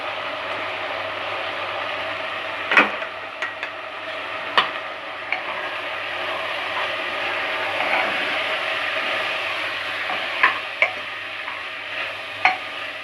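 Masala spices frying in hot oil for a mutton curry, a steady close sizzle with occasional scraping clicks of a spoon stirring the pan.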